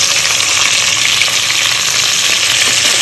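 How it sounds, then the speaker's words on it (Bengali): Chicken fries in a hot pan with a loud, steady, dense sizzle and crackle that runs unbroken throughout, close to the pan and with no voices over it. "আমি এখন একটু চিকেন হালকা চিকেন আমি রান্না করতে নিচ্ছি"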